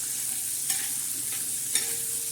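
Sliced onion fries in about two ladles of oil in a pan for a Marathi-style leafy vegetable dish, a steady soft sizzle broken by two brief scraping stirs.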